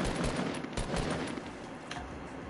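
Rapid automatic gunfire fires in a Fortnite match to shoot down a target, a dense close burst of overlapping shots that slowly thins out over a couple of seconds.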